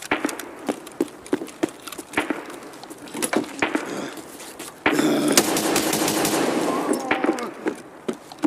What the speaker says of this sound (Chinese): 两枪给敌人点掉，这把直接转翻